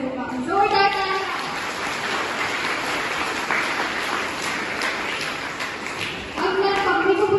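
Audience claps loudly at a school Hindi poem recitation event, a steady wash of applause lasting several seconds, with a voice speaking briefly at the start and again at the end.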